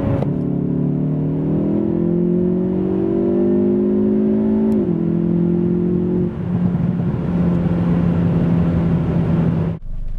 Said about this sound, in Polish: A tak auto przyspiesza od 90 do 140 km na godzinę.